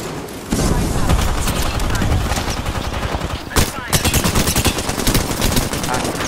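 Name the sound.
gunfire in an Apex Legends video game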